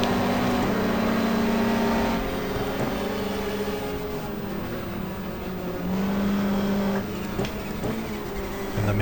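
Racing car engines in the GTR2 video game, including a Ford Sierra, roar steadily on the 1994 Pukekohe 500 circuit. Engine notes whine and shift as cars accelerate and lift, loud and continuous without pause.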